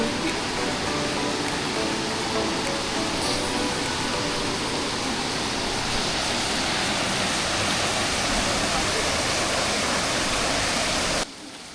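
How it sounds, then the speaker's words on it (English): Hidden jungle waterfall near Ella, Sri Lanka, with rushing water roaring as a dense, steady broadband wash that stays loud throughout and cuts off abruptly just before the end. "The sound of rushing water gets louder, and suddenly, there it is."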